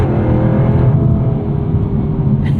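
A 2023 Jaguar F-Type R revving above 3,500 rpm in sport mode, a loud close continuous exhaust roar with a deep rumbling growl throughout, no talk.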